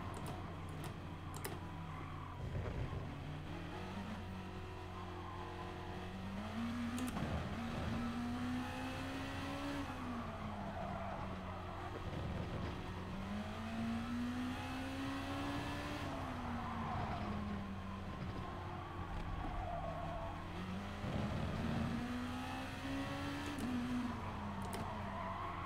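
A race car engine in GT Sport revs up and down through repeated gear shifts, rising and falling pitch over a lap, with quick clicking sounds layered on top and no talk.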